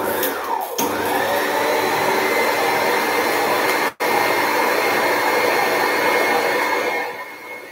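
An electric mixer whirs steadily through red velvet cake batter with buttermilk, loud and close, dropping out for a moment midway before droning on and easing off at the end; nobody speaks.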